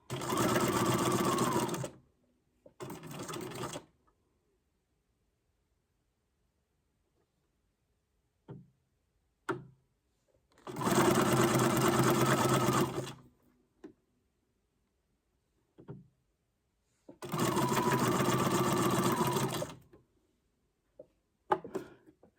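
A sewing machine runs zigzag stitches through paper for a junk journal, in three long buzzing bursts and one short one, with quiet gaps and faint clicks and handling taps between them.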